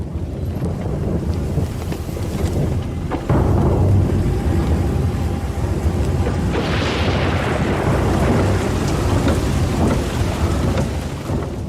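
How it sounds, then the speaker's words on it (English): Heavy monsoon rain pours steadily over a jungle road, with a deep roll of thunder building partway through. The dense, roaring wash stays loud and continuous the whole time, and nobody speaks. "And then most heavy monsoon rain."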